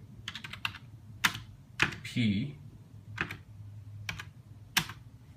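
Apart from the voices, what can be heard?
typing on an old computer keyboard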